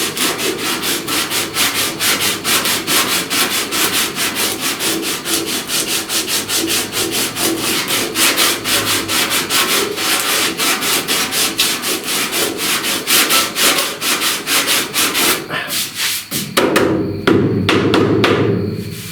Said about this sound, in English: I don't want to sand around this corner like this. I want to sand around kind of like